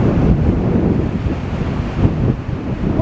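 Strong wind buffets the microphone on the Blackpool promenade while waves crash and roar underneath, a loud continuous rush with no voices.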